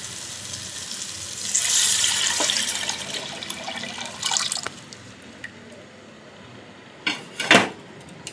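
Tamarind masala liquid is poured into a cooking pan, giving a steady hissing, splashing pour for a few seconds, then a quieter sizzle and a couple of brief, sharper spatters near the end.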